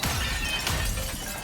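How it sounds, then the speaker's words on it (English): Glass shattering in the Icarus survival game, a dense crashing burst with scattered tinkling debris filling the short moment, loud and close with no talking. "that glass breaking sound is terrifying"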